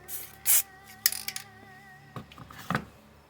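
A few short hissing bursts of primer from an aerosol spray can onto a model figure, separated by light rattling and tapping handling noises.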